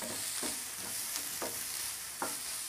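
Chopped tomatoes are stirred into fried onions in a pan, four or five rhythmic scraping strokes of a spoon over a constant sizzle, nearby and fairly loud, without any talk.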